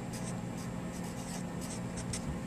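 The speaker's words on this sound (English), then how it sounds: "So I'm going to write line" Marker or chalk writing a line on a classroom board, with short squeaky strokes close by over a steady background hum and no voices.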